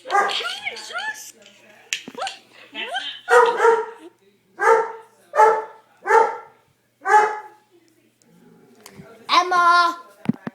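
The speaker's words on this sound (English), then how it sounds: "Emma, stop barking." A dog barks repeatedly at close range, a string of sharp evenly spaced barks, with a person's voice heard at the start.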